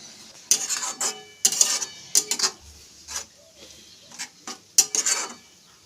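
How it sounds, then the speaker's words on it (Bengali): Raw mango jelly is stirred in sugar syrup in a pan, producing irregular metallic clinks and scrapes of the spoon against the pot, with short bursts separated by brief pauses and no speech. "এখন এটা কন্টিনিউ নেড়ে যেতে হবে"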